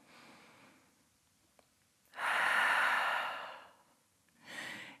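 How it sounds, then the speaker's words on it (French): A deep breath during a yoga balance pose: a faint inhale, then a long, full exhale through the nose and mouth, followed by the start of another breath close to the microphone. "on prend encore une dernière grande respiration"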